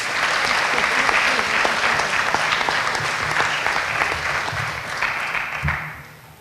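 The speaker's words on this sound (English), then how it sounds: "let's give those guys a round of applause." Audience at a college athletics recognition ceremony applauds volleyball players, a steady dense wash of clapping that holds evenly for several seconds and then fades out.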